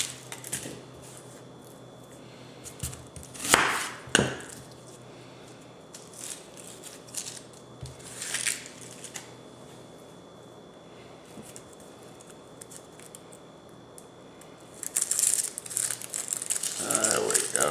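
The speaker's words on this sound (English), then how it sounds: "we're going to dice up a medium onion" A knife dicing a medium onion on a cutting board: scattered crisp chops and crunches in short bursts, with a faster run of cuts near the end, fairly close.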